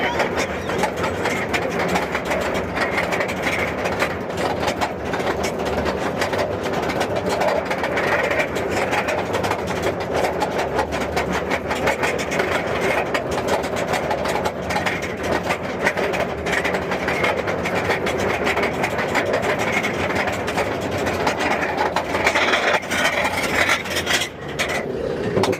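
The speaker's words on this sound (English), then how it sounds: "Valravn. This is a B&M drive coaster here at Cedar Point." Valravn, a B&M dive roller coaster at Cedar Point, a sustained rattling roar of wheels on track with rushing wind, loud and continuous as the ride runs.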